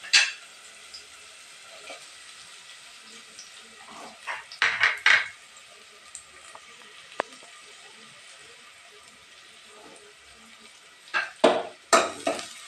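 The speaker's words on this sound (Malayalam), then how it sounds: "ഈ എണ്ണയിൽ കറുത്ത് ഉണക്കമുളക് നല്ലോണം മൂക്കട്ടെ." Dried red chillies fry in oil with shallots and garlic, a faint steady sizzle broken by several sharp clinks and scrapes of stirring in the pan.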